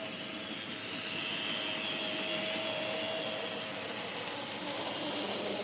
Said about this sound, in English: That's our loudest engine.